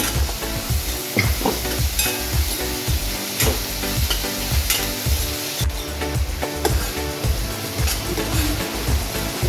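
Onion sprinkled with a pinch of salt frying in a pan for bitter gourd bhaji gives a loud, dense, steady sizzle up close, with repeated stirring scrapes and taps throughout and no voices.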